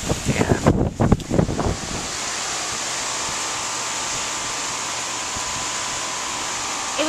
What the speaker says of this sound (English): the wind has really picked up. We're getting gusts. This is like the highest wind we've had.